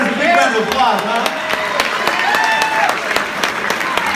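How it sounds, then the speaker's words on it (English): A gala audience claps in sustained applause while a voice talks over it, the clapping steady and dense throughout. "let's give the McCurdy Auction Team and all our generous donors a big round of applause, huh?"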